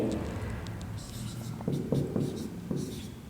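A pen scratches across paper in short strokes and taps during a maths lesson, close and fairly clear, with soft speech mixed in underneath.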